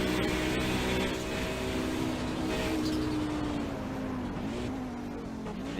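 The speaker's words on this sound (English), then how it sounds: "You never get tired of that sound of the Audi, the chirping turbo getting back up to speed." An Audi race car at the 2020 Targa Virginia endurance race accelerates hard, its engine drone rising and falling steadily with turbo chirps, loud and continuous without speech.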